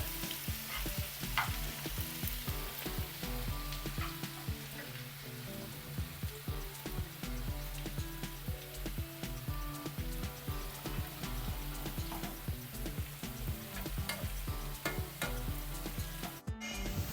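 Sliced small onions frying in ghee in a pan, a steady dense crackle and sizzle running the whole time without a break, close and fairly loud, with no talking.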